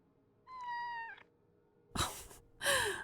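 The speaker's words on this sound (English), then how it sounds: "Cat." A cat in the Kathy Rain 2 video game gives one clear, drawn-out meow, followed by two short, harsher cat cries close up in a quiet room.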